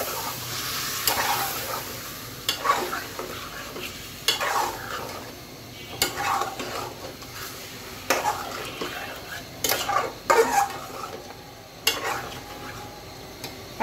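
Chicken coated in red chili powder is stirred in a frying pan, with repeated scraping and clinks of a utensil against the pan over a soft sizzle, close and moderately quiet.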